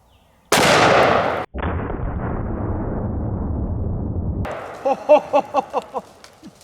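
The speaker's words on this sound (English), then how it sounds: "let's try some one-handed shooting." A 500 S&W Magnum snub-nose revolver fired one-handed outdoors: a sharp, very loud blast, then a second heavy boom with a long rolling echo, followed by a quick series of fading sharp cracks.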